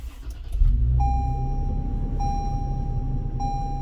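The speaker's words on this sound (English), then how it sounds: "And I'm going to turn the engine back on." A Toyota car engine starting back up and settling into a steady idle rumble, close by, with a dashboard chime tone beeping three times at regular intervals over the running engine.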